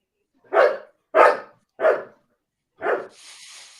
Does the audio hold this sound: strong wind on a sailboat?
no